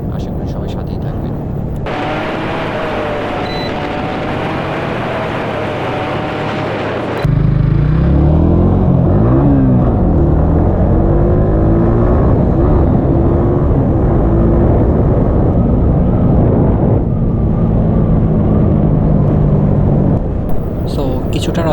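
A Yamaha R15 V3 motorcycle ridden fast along a wide road gives a loud, continuous engine drone mixed with heavy wind rush, the engine pitch rising and falling with gear changes, while someone talks over it.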